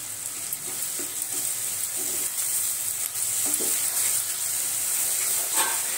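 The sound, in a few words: onions sautéing in pan with salt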